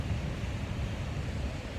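Ocean waves wash against the shore in a steady, fairly faint rumble, with wind noise blending into the continuous surf and no distinct individual breakers.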